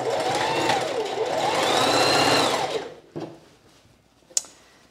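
A sewing machine stitches around fabric in a loud continuous whir that rises and falls in pitch, then stops, leaving a few handling clicks and a sharp tap.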